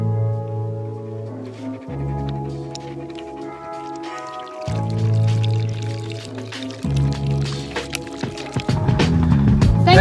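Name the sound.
pouring water into a glass or bottle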